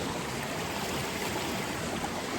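Water from a waterfall runs over rocks in a steady, close hiss and rush, constant and even throughout, with no voices.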